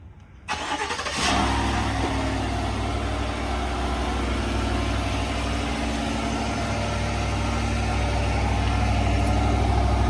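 A stock 2024 Chevy Silverado Z71 pickup engine starts abruptly after a moment of quiet, then holds a loud, steady close-up idle rumble with slight rises for the rest of the clip, with no voices.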